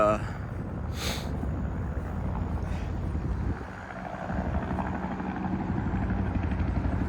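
A helicopter flies overhead, its steady rotor drone loud and continuous with a brief dip partway through, while a voice talks faintly.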